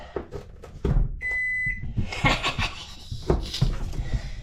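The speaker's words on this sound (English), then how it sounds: "Wait for the beep." A single steady electronic beep rings out for about half a second, with kitchen clatter and movement noises around it.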